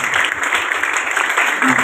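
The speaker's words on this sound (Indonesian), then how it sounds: "Kita kasih tepuk tangan untuk itu" Congregation clapping together during a church gathering, a steady dense patter of many hands filling the room, with voices faintly mixed in.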